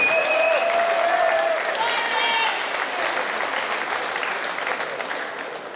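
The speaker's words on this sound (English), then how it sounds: "Big round of applause for Grassroots Boxers" A boxing crowd at a Premier Boxing Promotions fight night applauds the grassroots boxers with dense, sustained clapping and cheering that fills the hall, staying loud throughout and easing off slightly toward the end.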